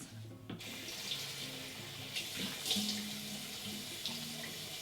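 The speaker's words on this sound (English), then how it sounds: "Let me just wash this off" A bathroom sink tap runs steadily while face cleanser is rinsed off, a continuous close hiss of water with small splashes and hand movements, and no speech.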